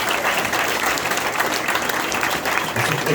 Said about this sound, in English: How about giving these ladies a round of applause for what they do for the veterans?